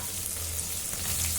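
Onions sizzle and crackle steadily in hot oil while browning for chicken kulambu, a dense continuous frying hiss with a low hum beneath.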